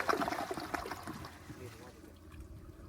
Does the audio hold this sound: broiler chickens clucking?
no